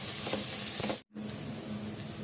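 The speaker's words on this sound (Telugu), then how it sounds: "ఇది కూడా మంచిగా ఫ్రై కానిద్దాం" Freshly ground ginger garlic paste fries in a pan with a loud, continuous hissing sizzle and some stirring, broken by one brief silent gap before it resumes, close and without voices.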